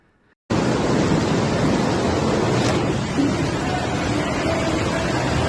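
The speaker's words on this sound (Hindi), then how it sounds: "जैसे ही बेसमेंट में पानी आने लगा उसके बाद का ये वीडियो है।" Water flooding into a basement, a loud, steady broadband rush that starts abruptly after a moment of quiet and continues without pause.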